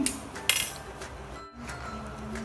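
A spoon clinks against a cup noodle cup in a few light, quiet taps over soft background noise.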